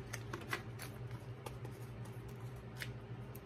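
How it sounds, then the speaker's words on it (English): Tarot cards shuffled in quick, light flicks and soft taps, scattered over a steady low background hum, close but fairly quiet, with no voices. "One more shuffle, please."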